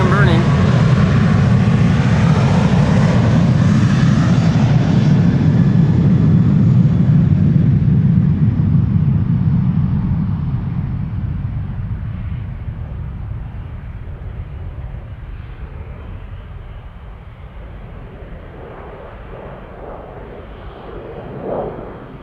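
A Boeing 737 takes off at Amsterdam Schiphol Airport, a loud roaring jet engine that slowly fades into the distance over about twenty seconds, with people talking over it.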